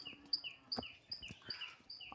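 Young Giribaz pigeons that have just landed give a string of thin, high peeps at a steady pace, close and quiet, ending in a brief louder rustle.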